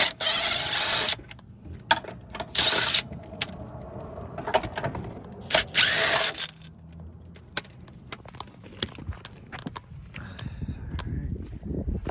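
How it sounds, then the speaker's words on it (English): Bolts are removed with a wrench from the underside of a Honda Civic during a K-swap, producing close, loud bursts of metallic ratcheting and clinking. Irregular pauses separate the bursts, and quieter rustling work noises follow. "I might as well take off the bottom bolts as well, these 14s, so we're ready to drop out"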